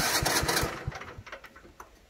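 A tractor engine cranks and tries to start, with a rapid run of loud chugging pulses that sputter and fade into weaker, irregular coughs, close up outdoors, with no voices.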